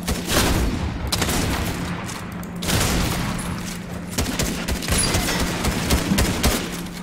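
Gunfire from a shooter video game: repeated loud bursts and shots crowd the whole stretch, dense and close, with no clear voices over them.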